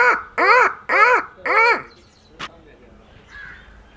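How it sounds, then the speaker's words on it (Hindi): Four loud, harsh crow caws in a steady rhythm, close by, from crows gathering nearby, followed by a quieter bird call and faint background chatter. "आसपास में पूरे कौवे आगे इकट्ठे हो गए हैं।"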